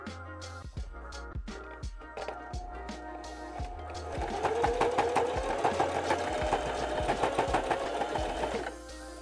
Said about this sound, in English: just run your sewing machine down that line